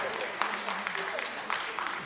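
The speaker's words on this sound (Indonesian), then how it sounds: "Tepuk tangan untuk pekerjaan kami yang sangat mulia ini." An audience claps steadily at a talk, a continuous soft patter of many hands heard at moderate distance.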